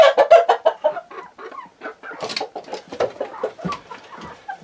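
A backyard rooster clucks and croaks in a rapid series of short, close calls, loud at first and then continuing in softer, irregular bursts, with no people talking.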